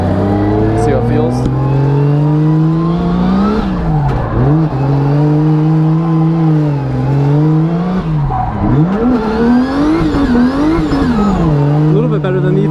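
A drift car revs hard and skids while warming its tires, the engine wailing up and down over continuous tire squeal, loud and close throughout.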